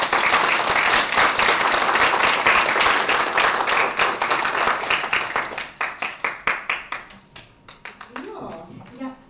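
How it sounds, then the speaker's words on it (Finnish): Dense applause from attendees at an afternoon Europlan meeting in Finland gradually thins into scattered individual claps, then a voice starts speaking as the clapping fades out. "Aplodit heille."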